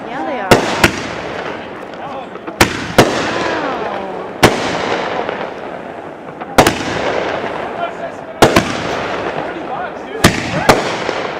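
Fireworks set off by a group of friends burst in a regular series of sharp, loud cracks, each one followed by crackling and fizzing as it decays.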